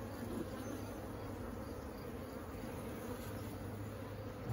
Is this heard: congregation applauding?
no